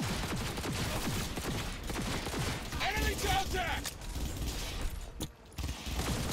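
Shotgun gunfire in Cyberpunk 2077 on Xbox One: bursts of shots and mechanical clatter set among a dense, busy game mix, partly under a voice talking.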